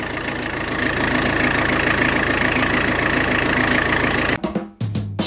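A Tata Indica V2 diesel car engine runs steadily after starting, a loud, close, continuous idle with a knocking rumble that cuts off abruptly near the end, followed by a few brief knocks.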